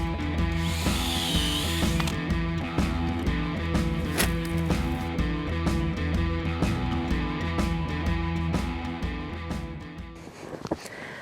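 Power drill boring tap holes into maple trees outdoors, a steady loud mechanical whine with ratcheting texture running nearly the whole time before cutting out near the end.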